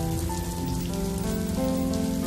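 Steady rain falling and pattering on a surface, a dense, continuous hiss with a low background hum beneath it, constant in level throughout.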